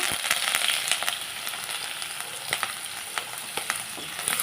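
Steady sizzling of onions and curry leaves frying in hot oil, with crackling pops and occasional stirring clinks, close and continuous throughout.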